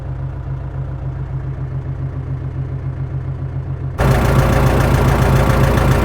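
A diesel tractor engine idles steadily up close with a low rumbling throb, then suddenly grows louder and harsher midway through.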